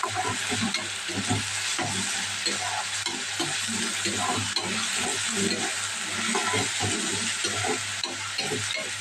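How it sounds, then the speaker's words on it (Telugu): Onion and green chillies frying in a hot oil tempering, a continuous loud sizzle with steady stirring scrapes throughout, close and without talk. "ఉల్లిపాయ పచ్చిమిర్చి కూడా అయితే వేసేస్తాను అయితే పెద్ద ఫ్రై అయ్యాక"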